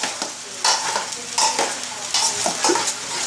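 Rice is stirred into frying vegetables for pork fried rice, with close rhythmic scraping strokes of a spatula over a steady sizzle.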